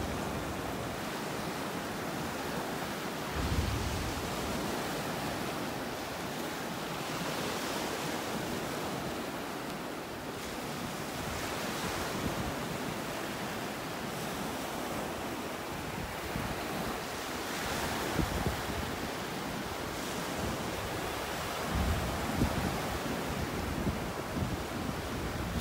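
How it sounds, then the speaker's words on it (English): Ocean waves crash against a barge in heavy, booming surges under constant wind noise, with a deep thunder-like rumble throughout, at Delnor-Wiggins beach in North Naples, Florida. "You can hear the waves hitting it. Sounds like thunder."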